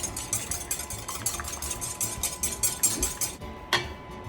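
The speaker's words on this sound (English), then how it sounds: "And I love this whisk." A whisk beats a whole egg in a bowl: rapid, regular clinking strokes, close and fairly quiet, then a brief pause and a final tap, with no talking.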